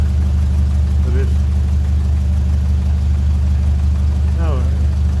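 A 1957 Ferguson 35 TVO tractor engine, running richer, runs steadily with a low, throbbing drone, loud and close, while a voice briefly speaks over it.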